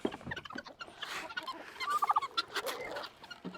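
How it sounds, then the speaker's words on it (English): Guinea fowl and turkeys on a farm call together, with rapid chattering cackles and gobbles rising in a cluster near the middle, fairly close over a busy outdoor background. "looks like we got some guineas and turkeys want something to eat"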